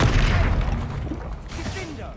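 A Confringo fire spell bursts in Hogwarts Legacy with a loud, heavy boom that opens the moment and then rumbles away over a couple of seconds, with a voice faintly present.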